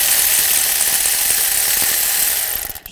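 A ratchet clicks rapidly and continuously while a starter bolt is loosened on a 2011-2018 Volkswagen Jetta, a bright close mechanical chatter that stops abruptly near the end.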